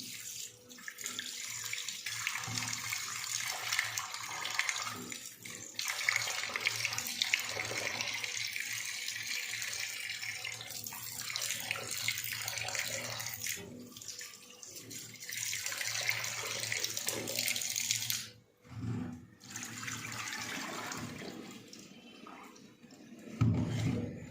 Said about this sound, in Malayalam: സോ നമുക്ക് വെള്ളം ഒഴിച്ചൊന്ന് ഇത് നന്നായിട്ട് ക്ലീൻ ചെയ്തെടുക്കാം